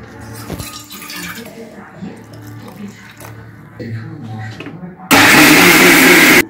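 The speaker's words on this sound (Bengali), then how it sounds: "চালটা কিন্তু একটু পাতলা বাটবো, ডালটার মতো অত ঘন বাটবো না" A wet grinder grinds soaked rice into thin dosa batter, starting up with a loud, steady churning roar that stays close and continuous after some kitchen clatter and talk.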